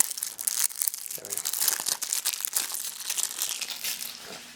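Crinkling and rustling of a plastic zip bag being worked open inside a Shaolia Warring States deluxe board game box, with close, irregular crackles and scrunches of plastic that continue throughout.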